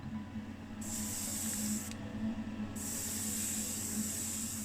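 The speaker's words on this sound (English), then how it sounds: "It dries in my airbrush pretty fast." An airbrush sprays paint onto a Hot Wheels car in two close, steady hissing bursts separated by a brief pause, over a faint background hum.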